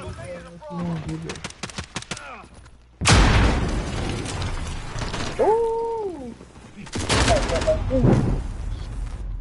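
Gunfire in a battle royale video game, loud broadband shots and a sharp burst near the start followed by sustained heavy bursts, mixed with game effects and a tonal sweep, while players talk over it.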